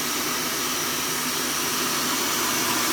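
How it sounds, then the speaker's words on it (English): A KitchenAid stand mixer with a whisk attachment beats eggs at full power for a chocolate fondant, making a loud, dense, unbroken whirring rush that fills the whole stretch. "we're just going to put this on a high speed with a whisk attachment"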